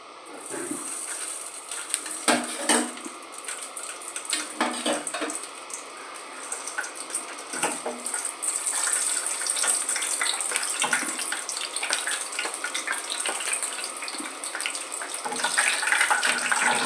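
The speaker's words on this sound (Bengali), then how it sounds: "এবার তেলের সঙ্গে কাঁচা লঙ্কাগুলো একটু হালকা ভাজা ভাজা করে নেবো" Green chillies fry in mustard oil as a steady broadband hiss of sizzling, with sharper crackles and pops bursting through now and then, close and continuous.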